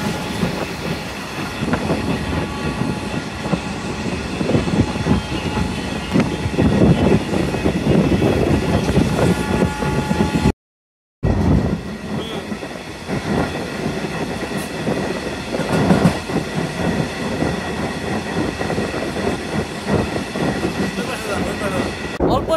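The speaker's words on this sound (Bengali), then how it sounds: "আমাদের ট্রেনটি এখন কুচিয়ামরা ওভারপাস করে গেল।" A stone-carrying freight train rolls steadily from Dhaka toward Bhanga, loud continuous rumble and rail clatter heard from on board, with a brief dropout midway.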